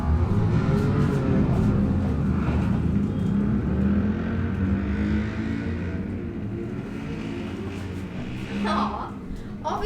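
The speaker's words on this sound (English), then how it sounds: "It was just 6 motorbikes." A group of six motorbikes roars past on a city street, engines loud and close at first, then fading slightly as they move off, with a continuous rumbling drone throughout and no talk.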